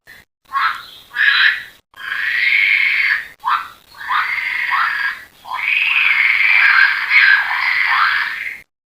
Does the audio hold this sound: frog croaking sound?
yes